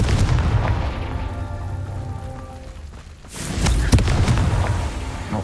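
Confringo blasting spell exploding in the video game Hogwarts Legacy, a loud booming burst that erupts suddenly after a stretch of low rumbling ambience, followed by sustained crackling debris with a sharp crack partway through.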